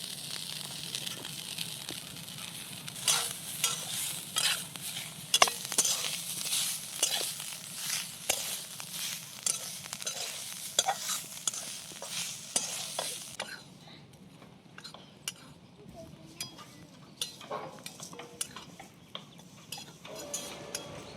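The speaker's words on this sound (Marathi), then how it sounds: "त्याला चांगला बारीक खिसून घेतला या कडाईमध्ये त्याला भाजून घेणार आहे मी" Finely grated coconut is stirred in a kadai, a metal spatula scraping and clinking against the pan in quick repeated strokes over a soft sizzle, close by. The strokes grow quieter and sparser toward the end.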